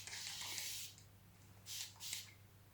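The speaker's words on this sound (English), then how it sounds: "I'll spray with that just to, because it's like a mist" A spray bottle misting water onto African hair during loc styling, three short soft hissing bursts, one longer then two quick ones, close and fairly quiet.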